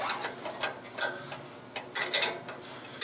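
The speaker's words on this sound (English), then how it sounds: "Loosen up this bolt right here" Bolt being loosened with a ratcheting wrench on a Powermatic 27 shaper, a series of irregular clicks and metallic ticks in short bursts, close by and without voices.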